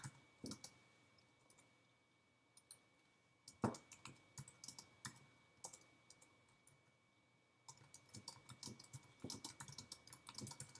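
Quiet bursts of typing on a computer keyboard as an article is written, with scattered clicks, short pauses and a denser run of keystrokes toward the end.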